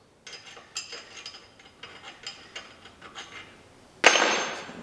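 Hammer blows on a punch driving a broken bolt out of an International Farmall Super H tractor part: a series of sharp metallic taps at irregular intervals, then one loud clanging strike near the end.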